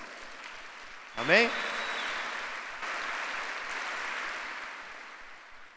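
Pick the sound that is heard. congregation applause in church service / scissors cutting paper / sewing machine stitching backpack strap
congregation applause in church service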